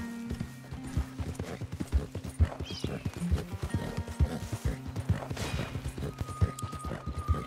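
A horse ridden in Red Dead Redemption 2 clip-clops along in a steady rhythmic gait, hoofbeats close and even over a low background hum.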